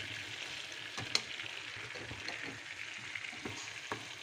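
Flour being stirred into melted butter in a pan, a soft continuous scraping and faint sizzle with a few light clinks of the utensil, quiet and close, no talking.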